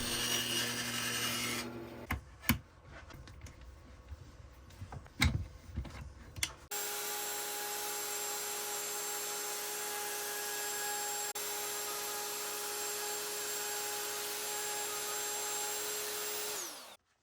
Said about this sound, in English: Here we're just going to take it to the bandsaw and we're just going to cut around the border.